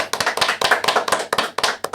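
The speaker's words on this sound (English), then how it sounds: "Give him a clap." A small group claps for a competitive gaming tournament winner, with steady, close hand claps running throughout and no talking.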